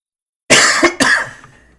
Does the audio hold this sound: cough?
yes